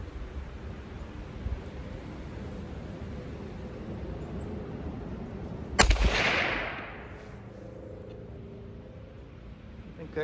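One sharp report from a Remington No. 5 rolling block rifle chambered in 7mm Mauser, a 1902 small-bore military rifle, fired outdoors midway through, followed by a brief decaying echo over a steady low background.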